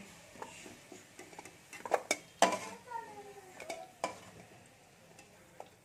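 Boiled potatoes being lifted out of a pan in a kitchen, with a series of metal clinks and scrapes of utensil against cookware, several sharp knocks in the middle, over a faint background.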